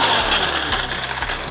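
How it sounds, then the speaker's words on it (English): A blender grinding dark chocolate peppermint bites into powder, a loud, close, buzzing motor whir with a rattling, churning texture that runs steadily throughout. "So we thought we would just give them a grind."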